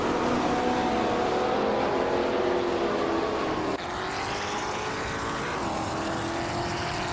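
A 1966 McLaren Elva Ford race car engine in a racing video game drones at steady high revs, loud and continuous, with a brief dip and shift partway through, no talk over it.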